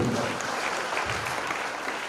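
A church congregation applauding at the grand opening of a new sanctuary, a dense steady clatter of many hands clapping together, fairly close and continuous throughout.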